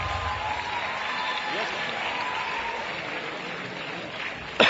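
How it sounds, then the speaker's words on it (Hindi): An audience at a cultural program in Sirsa claps for the chief guest during a memento presentation, moderate steady applause that carries on evenly, ending with a sudden louder burst at the close. "जोरदार तालियां मुख्य अतिथि महोदय के लिए,"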